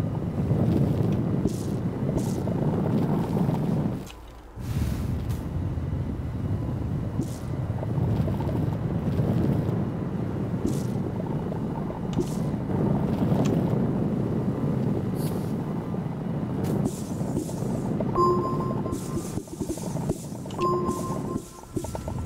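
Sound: driving a tractor in the video game Astroneer

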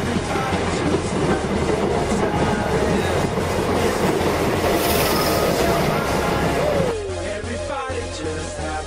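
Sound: electric train arriving at station

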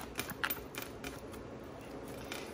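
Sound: shuffling tarot cards

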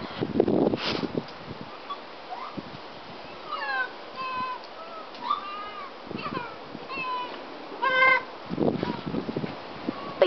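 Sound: lemurs mewling

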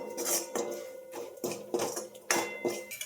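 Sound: stirring curry in a pot with a spoon

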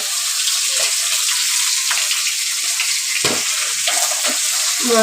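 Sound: food frying in a pan

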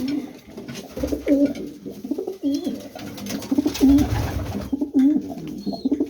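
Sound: pigeons cooing in a loft

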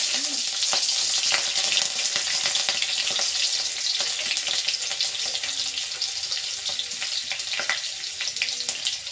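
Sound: chilies frying in hot oil

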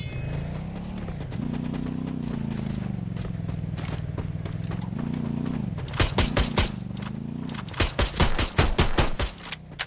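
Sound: gunfire from a player shooting in a video game match

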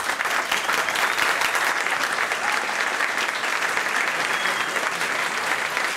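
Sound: audience applause

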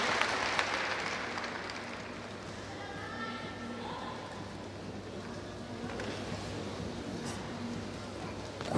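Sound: crowd cheering for trampoline gymnast Yana Pavlova

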